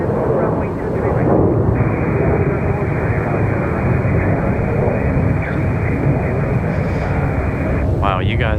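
Airplane at Raleigh Durham International Airport with a loud, steady broadband engine roar that holds for several seconds, heard close with wind buffeting the microphone.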